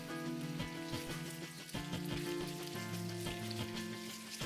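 Bacon frying in fat in a pot over high heat, a steady close sizzle and crackle with occasional utensil clinks and a faint background hum.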